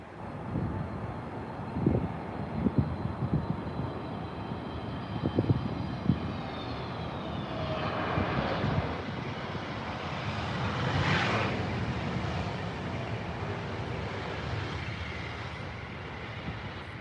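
Airbus A321neo jet passing over at Heathrow Airport in London: a steady broad engine roar that swells and fades with a rising and falling whine, a few bumps and wind buffets early on.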